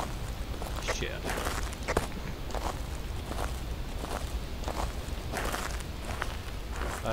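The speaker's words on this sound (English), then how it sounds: "I heard footsteps and something was being moved about" Footsteps in the ghost-hunting game Phasmophobia, a steady series of close thuds spread across the stretch, with people talking over them.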